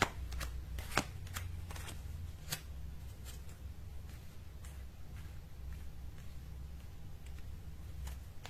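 A deck of Lenormand fortune-telling cards is shuffled continuously at close range, with brisk repeated riffles and taps throughout and no talking.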